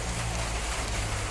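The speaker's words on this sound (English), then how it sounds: "It's raining beautifully, so I taken and halt here." Rain falls steadily during a halt in Manali, a soft, even hiss over a faint low hum, continuous and fairly quiet with no talk.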